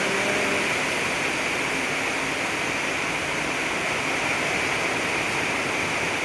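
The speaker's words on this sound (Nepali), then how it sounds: "बाहिर पानी परिरहेको छ।" Steady, dense hiss of heavy rain falling outside, continuous and fairly loud with no voices.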